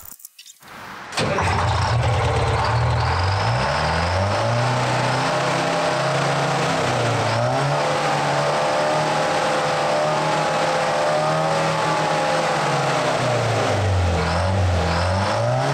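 A Detroit diesel engine in a truck tank cranks and catches after a second of quiet, then runs loud and close, with its pitch rising and falling through repeated revs over a steady rumble for the rest of the clip.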